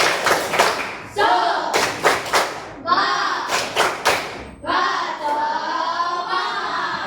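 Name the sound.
class doing the 'tepuk semangat' clapping routine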